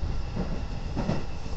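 A JNR 213 series train runs on the Ako Line between Hyogo and Okayama, heard from inside as a steady, loud rumble with faint rhythmic wheel clatter.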